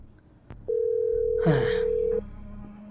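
In the horror game Within the Static: Ashburg Rental, a phone gives off a single steady electronic tone lasting about a second and a half, loud and clear over a quiet room, with a short breathy sound partway through.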